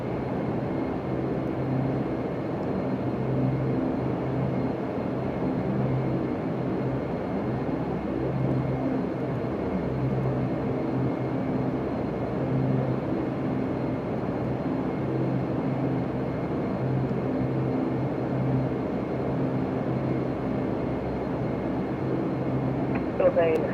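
Dash 8 Q400 turboprop propellers in a flight simulator, a steady loud droning hum with a low tonal throb that holds throughout, with talk at times over it.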